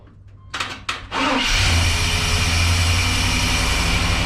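A 1995 GMC Sierra 2500 truck with a blown head gasket cranks over in a few short bursts, catches, and settles into a loud, steady, rough-sounding idle close by.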